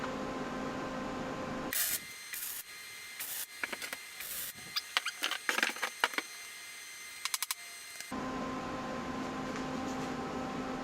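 A welder lays tack welds on a square front driveshaft part for a Toyota Hilux 4x4: an electric crackling buzz comes in several short bursts between steady background hum, close and fairly loud.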